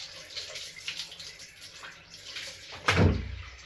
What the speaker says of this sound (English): the water coming out of here is the aquarium water